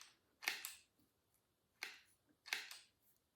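Wire snips cut off the tails of fence wire ties, three sharp, close snapping clicks spaced about a second apart in an otherwise quiet setting.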